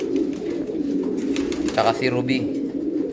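Racing pigeons of a champion bloodline cooing steadily in a loft, a low rolling murmur running throughout with someone talking over it.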